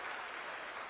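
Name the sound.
audience applause for Vinay Mishra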